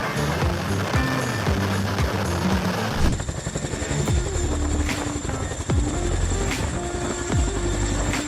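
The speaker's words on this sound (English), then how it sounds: "Firefighting helicopters are a game changer for battling forest fires." A firefighting helicopter's rotor throbs loudly and steadily at close range with pulsing blade chop. Partway through, the engine whine and rotor wash grow louder and fuller.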